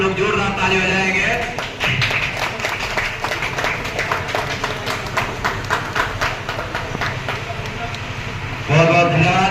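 An audience at a foundation day celebration in Azamgarh, held after a one-day training program, claps loudly and steadily for several seconds. A voice on a loudspeaker talks just before and just after the applause.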